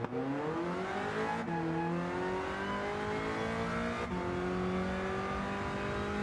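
A race car in Gran Turismo 7 drives with a loud, continuous engine note that climbs steadily through the gears, with brief dips at two shifts, and no talking over it.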